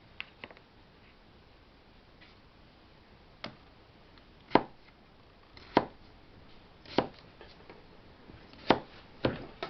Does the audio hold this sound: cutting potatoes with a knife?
yes